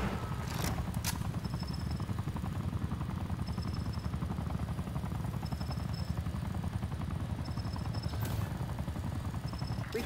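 Attack helicopter killstreak in Black Ops 6, a steady rhythmic rotor chop droning throughout with occasional sharp gunfire cracks, moderately quiet and constant.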